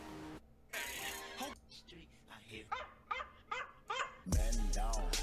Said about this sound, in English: this is Gabe the dog. You've seen him. He's this dog. He borks.